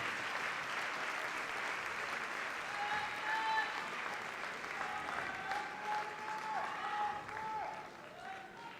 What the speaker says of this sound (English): Your applause, ladies and gentlemen, for some fabulous dancing on this floor tonight